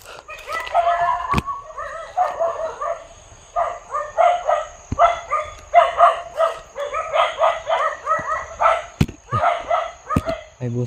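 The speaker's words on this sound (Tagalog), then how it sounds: "boses ng mga aso" Several dogs bark in rapid, repeated bursts, loud and fairly close, with a few sharp knocks and a faint steady high tone in the background.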